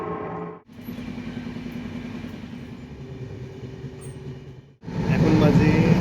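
Darjeeling Mail train pulling into Bolpur station, a continuous rumbling roll of wheels and carriages running steadily at close range, with a sharper burst of noise near the end.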